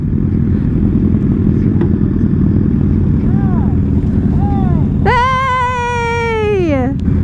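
Motorcycles ride along in a group, a loud, steady engine rumble throughout, with a voice calling out briefly mid-way and a rising-then-falling tonal whine near the end over the engine noise.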